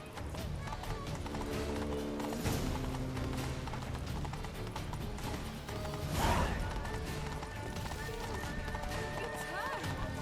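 Horse hooves clip-clop steadily in The Witcher 3: Wild Hunt amid game music and background noise, with a brief crash midway and people talking over it.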